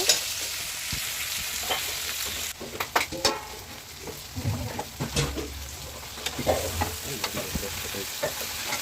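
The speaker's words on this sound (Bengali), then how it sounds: "শুকনো লঙ্কা তেজপাতা একসঙ্গে, জিরা ফোড়ন একসঙ্গে আমি দিয়ে দিয়েছি।" Dried chillies, bay leaves and cumin seeds fry in hot oil in a wok, giving a steady close sizzle with scraping stirring strokes and occasional crackles throughout.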